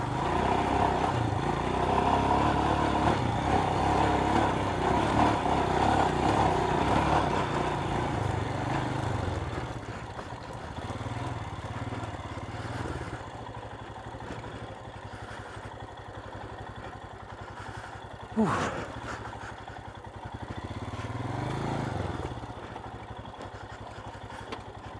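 A Royal Enfield Himalayan 411 motorcycle engine chugs and revs nearby as it climbs steps off-road, loud at first then easing to a lower rumble with throttle blips, while wind and faint knocks come and go.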